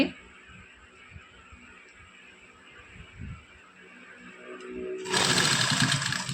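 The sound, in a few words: sewing machine stitching a half collar neck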